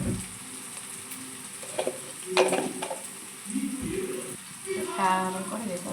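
Curry of onion, green chilli and tomato sizzling and frying in a pan while being stirred, with scraping strokes against the pan and a voice talking over it.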